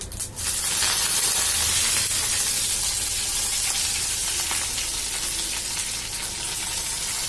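Fennel seeds, curry leaves and mustard seeds sizzle in hot oil as the tempering for paruppu urundai kuzhambu, a South Indian lentil-dumpling curry. A loud, close, continuous hiss and crackle holds steady throughout with no talking.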